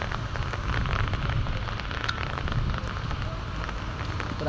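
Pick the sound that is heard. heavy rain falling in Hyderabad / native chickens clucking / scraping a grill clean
heavy rain falling in Hyderabad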